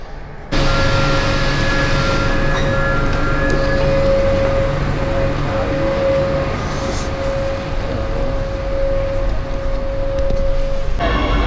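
A passenger train running on the rail network in Barcelona, a steady loud rumble with a sustained tonal whine that holds for about ten seconds, close and continuous with no talking.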